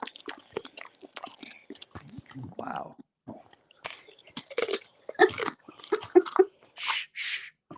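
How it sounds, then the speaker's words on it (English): A dog crunches and chews on raw vegetables close by in a quiet room, producing irregular crisp bites and chewing, while people whisper softly and one voice speaks briefly. "it's a thing to listen to dogs crunching on vegetables"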